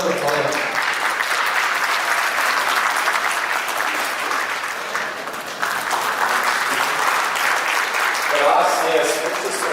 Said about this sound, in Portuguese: Un fuerte aplauso para los dos, por favor.